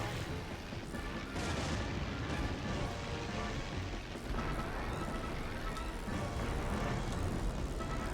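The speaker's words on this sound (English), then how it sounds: "We're taking fire from tanks, though." Tank cannon fire and battle noise in Heroes of the Pacific during the Battle of Tarawa, a dense, continuous rumble of booms and blasts with no clear pauses.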